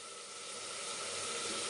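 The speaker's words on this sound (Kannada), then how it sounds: "ನಾನು ಹಾಕಿರೋ ಮಸಾಲೆ ಎಲ್ಲ ಫ್ರೈ ಆಗಿದೆ" Masala spices for egg biryani sizzle steadily in a hot pan, a dense, even frying hiss that holds close and constant throughout with no voices.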